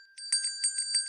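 A bright, rapid chime sound effect on a sports radio show rings in quick ringing strikes like a bicycle bell, sustained high tones repeating several times within about a second, clear and close with no talk over it.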